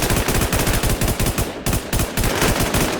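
Dense automatic gunfire from the video game Infestation SEA, loud rapid bursts rattling almost continuously with one short pause midway, no talking.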